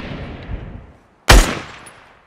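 A single loud, close gunshot in the Fortnite video game bursts out after a fading rumble of earlier fire, then quickly decays.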